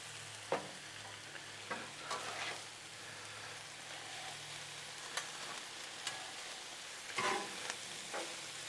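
Chicken stir fry cooks on a Blackstone griddle with soy added, giving a soft continuous sizzle broken by occasional clicks and scrapes of stirring. Heard fairly close and quiet, with no talking.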